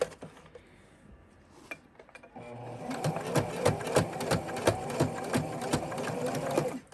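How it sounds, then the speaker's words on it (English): A sewing machine runs steadily, stitching a seam on a fabric stocking, its rapid rhythmic needle clatter close and loud after a quieter start with light handling noises. "get my sewing machine in front of me"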